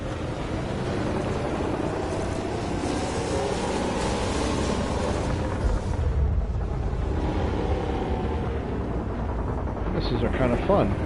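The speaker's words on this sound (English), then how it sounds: "That's a hit with a missile." A missile strikes home in the space combat game Elite: Dangerous, flown in a light fighter: a loud, sustained roar of explosive rumble and crackling blast noise that fills the whole stretch, swelling again near the end.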